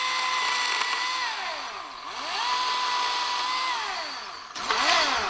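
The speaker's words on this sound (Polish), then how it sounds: "Piła zaczęła działać." A power saw or similar motor tool in a rural garden plot runs with a steady whine that rises and falls in pitch through repeated revving cycles, loud and continuous, with a brief pause before it picks up again.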